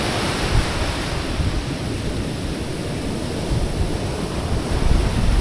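Ocean surf rolls in steadily on an Australian fishing beach, a continuous loud broadband wash of breaking waves and churning water with no voices.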